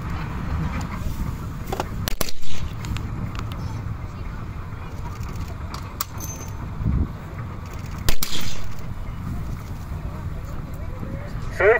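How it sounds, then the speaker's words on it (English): Sharp cracks of blank gunfire at a First World War tank reenactment with the Mark IV tank Deborah, a few loud isolated reports, some far off, amid outdoor noise and talking. "And also, if you haven't already noticed, there will be some gunfire."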